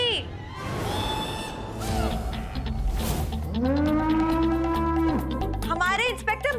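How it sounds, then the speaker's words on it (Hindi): A buffalo gives a long, drawn-out low moo that rises and wavers, close and fairly loud, with other voices and background sounds around it. "ये भैंसा यहाँ कैसा?"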